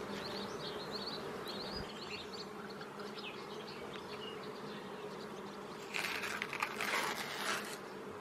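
Honeybees buzz around the entrance of a packed hive in May, a constant close drone of many wings with a brief rustling burst near the end.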